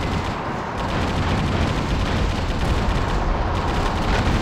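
Sustained, dense machine gun fire from Metal Wolf Chaos XD roars as a continuous loud barrage with rumbling blasts, with no voices.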